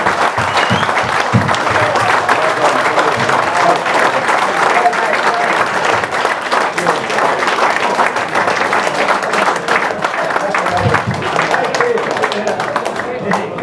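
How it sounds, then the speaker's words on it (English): A crowd at a football fan club end-of-season party gives the entertainers loud, sustained applause, dense continuous clapping with some cheering and voices mixed in throughout. "Ladies and gentlemen, put your hands together."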